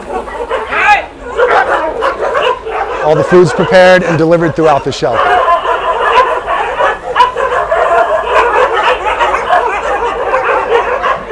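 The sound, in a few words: dogs barking in animal shelter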